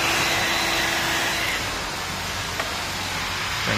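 A heat gun blows a steady, loud rush of hot air across 3M vinyl wrap being stretched into a groove on a boat hull, continuous broadband hiss throughout with no talking.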